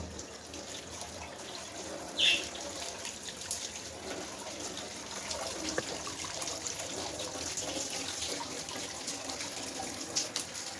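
Water runs steadily from a kitchen tap while cooked pasta is rinsed in a steel pot, a soft continuous splashing with a brief clink partway through.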